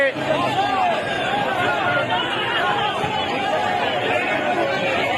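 A large crowd gathered outside a workers' convention venue in Peshawar: a dense, steady babble of many voices chattering and calling at once. The noise stays loud and continuous throughout.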